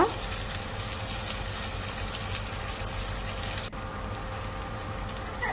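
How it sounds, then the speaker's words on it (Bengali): About a cup of chopped onions fries in mustard oil for Bangladeshi beef kala bhuna, a loud, steady sizzle with a brief dip as the pan is stirred. "এখন আমি খুব ভালো করে এটা ভেজে ব্রাউন কালার করে নিব"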